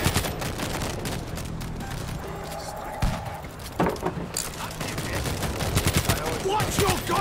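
Rapid gunfire bursts and single shots crackle through a busy video-game firefight, with shouting players talking over the battle noise throughout.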